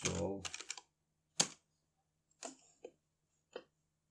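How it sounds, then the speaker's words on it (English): A computer keyboard is typed on in short, separate clusters of clicks with silent gaps between them, quiet and close, following a brief bit of speech at the start. "I'm going to type npm install."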